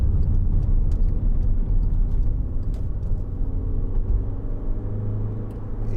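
A 2012 Skoda Yeti 2.0 TDI four-wheel-drive diesel car being driven, heard from inside as a steady low engine drone and road rumble with no talk, easing slightly partway through.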